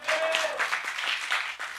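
Brief burst of clapping from a church sermon congregation, moderately loud, with a few sharper claps standing out, no voices over it.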